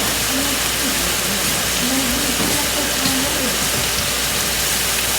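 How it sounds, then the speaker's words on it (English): Onions and garlic sauté in a pan for a steak-sandwich dinner, giving a steady, dense sizzle throughout while a voice talks over it intermittently. "These are sauteing nice."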